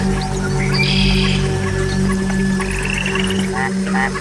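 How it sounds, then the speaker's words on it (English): Mexican white-lipped frog giving a series of chirping calls at night in a jungle, repeated short chirps over a dense, steady background of insects and night ambience. "To attract a female, the Mexican white-lipped frog makes a series of chirping sounds."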